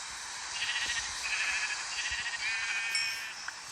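A video-game sheep bleats in a few wavering, nasal calls over a faint background, moderately close and not loud, with no talking.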